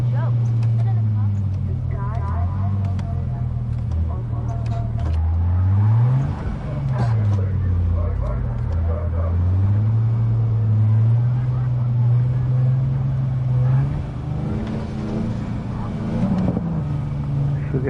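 A car engine in the video game Cyberpunk 2077 hums loudly and steadily, its pitch rising and falling as the car is driven in a swerving, weaving way, with talking heard over the engine.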